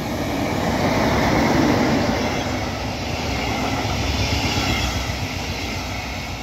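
Regional express train hauled by a class 114 locomotive with a control car, rushing through Langenselbold station toward Hanau, a loud steady roar of wheels and wagons sweeping past nearby.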